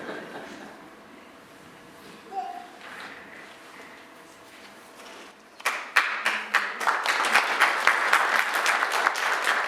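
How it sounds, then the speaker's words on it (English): Congregation applause at a Sunday service breaks out after a quiet stretch, rising from a few scattered claps into steady, dense clapping that fills the room and holds to the end. "I think that's the first time I ever got applause."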